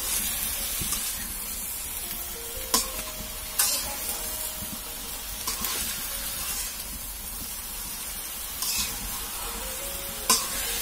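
Spinach and taro greens fry with a spiced masala paste in a pan, a steady hissing sizzle broken by several sharp scraping stirs of a spoon against the pan.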